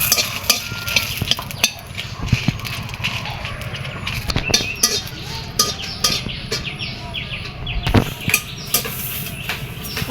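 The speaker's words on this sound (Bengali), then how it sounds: "শুকনা মরিচটা হালকা করে ভেজে নিব হালকা করে ভাজবো আমি" Dry red chilies frying lightly in a pan give a steady crackle and sizzle, broken by frequent metallic scrapes and clinks of a spoon stirring against the pan.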